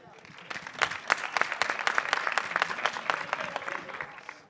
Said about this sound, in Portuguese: Aplausos para Arroz Doce.